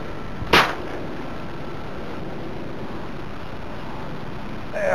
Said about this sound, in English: This clip begins with the gunshot.